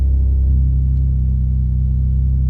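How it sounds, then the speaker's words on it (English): Deep, steady idle rumble from a 2025 Ford midsize truck exhaust in Baja mode, a loud low drone held close with no talk. "You hear that switch? Baja mode sounds great."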